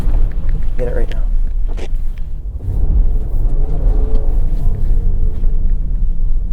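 Inside a 2023 Nissan Pathfinder Rock Creek on the move, a loud, constant low road rumble fills the cabin while people talk over it.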